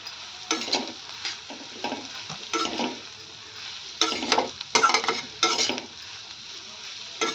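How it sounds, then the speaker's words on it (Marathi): A spoon stirs a spice mix with amchur (dry mango) powder in a pan, giving irregular scraping bursts close by over a soft background sizzle, with no talking. "यामध्ये आपण एक चमचा आमचूर पावडर घालणार आहोत आता हे आपल्याला छान मिक्स करून घ्यायचं आहे"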